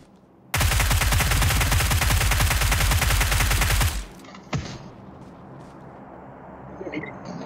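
Rapid automatic gunfire from a 9mm weapon in a video game, a loud sustained burst lasting about three seconds that cuts off abruptly, followed by a single sharp shot and quieter background game noise.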